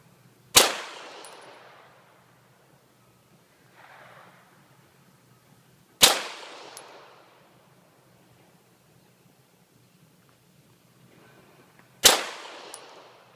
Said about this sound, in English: You have to pull the trigger.